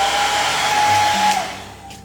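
A hair dryer blows steadily to dry freshly painted rocks made for tabletop gaming, a loud continuous whooshing hum with a steady whine that eases off slightly near the end.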